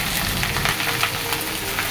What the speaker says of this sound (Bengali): ফুলকপি আলু পেঁয়াজকালি দিয়ে একটা ভাজা করছি